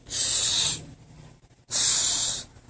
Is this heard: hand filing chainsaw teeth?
no